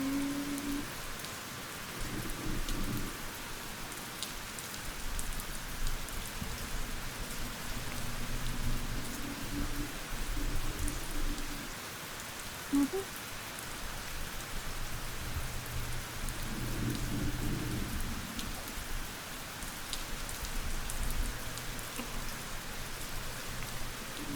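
Steady rain falls on a surface in an even wash the whole way through. Low rumbles of distant thunder roll in at intervals, and no one is talking.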